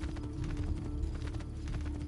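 A horse's hooves clip-clop in Assassin's Creed 2, the video game, as a steady, fairly quiet rhythmic trotting over a low background hum, with no speech.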